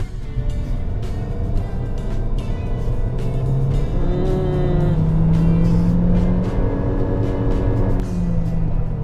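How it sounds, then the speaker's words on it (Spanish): A Chery Tiggo 4 with a CVT accelerates from 50 km/h, its engine drone rising slowly and steadily under road and tire noise from inside the cabin, with no voices. "estamos a 50 km por hora a 1000 revoluciones y le piso."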